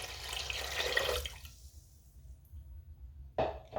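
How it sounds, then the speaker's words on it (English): Water pouring into a cooking pot for boiling lentils, a splashy rush that fades out after a second and a half, then a brief renewed splash near the end, close and alone. "I'm going to put 2 liters of water and then boil my lentils."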